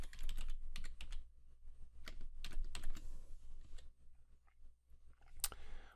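Computer keyboard typing in quick bursts of close, crisp key clicks with brief pauses, entering a name for a new Windows virtual machine in the Azure portal.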